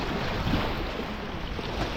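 Sea waves wash around an island beach at Punnakayal, a steady, close surf rush mixed with wind buffeting the microphone, with no voices.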